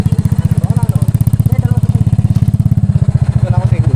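Idling engine of a habal-habal motorcycle taxi near a mountain hiking trail, a loud, close, rapid even putter running throughout while people talk over it.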